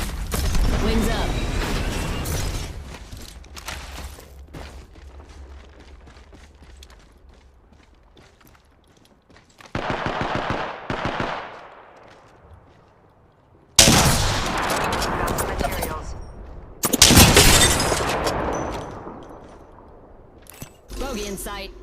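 Gunfire in the video game Apex Legends comes in loud bursts of shots separated by quieter stretches of game ambience, with several sharp, dense volleys near the end.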